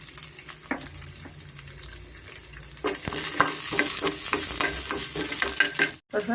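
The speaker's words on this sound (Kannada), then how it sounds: "ಈ ಆನಿಯನ್ನು ಸ್ವಲ್ಪ ಚೆನ್ನಾಗಿ ಎಣ್ಣೆ ಫ್ರೈ ಆಗಿದೆ ನೋಡಿ" Chopped onion and curry leaves fry in hot oil for raw mango chutney, a steady close sizzle that swells louder midway, broken by spatula scrapes and taps against the pan.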